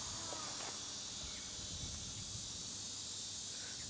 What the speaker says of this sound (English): Dang cicadas.